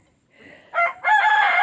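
A rooster in a backyard chicken flock crows loudly and close, rising from a short rough note into a long sustained call, with faint background clucking at the start.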